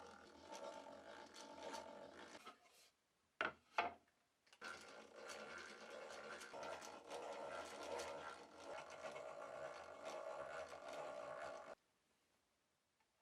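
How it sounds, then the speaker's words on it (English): A drill with a countersink bit bores into wood for a Japanese-style toolbox, a close, steady whirring grind in two stretches, broken by short loud bursts near the middle, then stopping abruptly. "I'll use a countersink bit to make sure the screws fit snugly."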